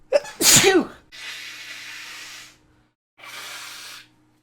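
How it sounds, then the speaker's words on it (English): A single loud, close sneeze with a sharp breathy burst, followed by two stretches of steady hissing noise separated by a short silence. "Wait a minute, guys. I gotta sneeze."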